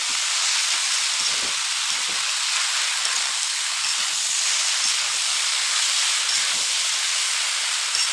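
Chalta, elephant apple, lightly frying in a pan for pickle, a steady dense sizzling hiss throughout, close and even, with no voices.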